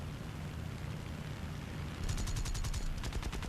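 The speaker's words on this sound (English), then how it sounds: "Shot a bit with machine gun to scare him off" Short bursts of machine gun fire from an A6M2 Zero fighter in War Thunder, rattling over a steady engine drone, with a denser rapid volley in the second half.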